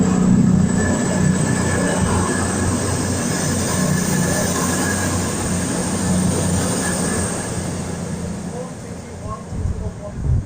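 Class 221 unit 221141 rumbles through Durham station, loud and close, with rolling wheel noise and a thin high squeal sustained over the whole passage and a voice talking faintly beneath.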